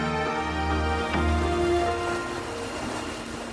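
A boat on the Mahi reservoir in Banswara, Rajasthan gives a steady low mechanical hum beneath a constant wash and patter of water, loud and close, with no voices.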